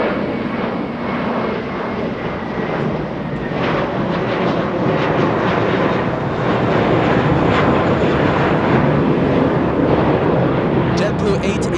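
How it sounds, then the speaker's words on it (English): A GE90 jet engine spools up in the distance at Los Angeles International Airport, a continuous broadband roar that stays level and slightly swells. Voices can be heard faintly alongside. "GE90 starting up in the distance"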